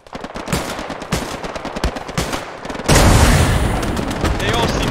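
An MG42 machine gun in Hell Let Loose rattles out rapid bursts of gunfire, then a heavy sustained barrage with booms takes over, loud and dense throughout.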